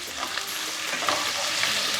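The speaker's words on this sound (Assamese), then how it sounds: "এখিনি মই এতিয়া ধুনিয়াকে ভাজিম যেতিয়ালৈকে পিয়াজখিনি কোমল হৈ না যায়" Onions fry in a pan until soft and brownish for an Assamese mutton curry, giving a steady, close sizzle with light stirring throughout and no talking.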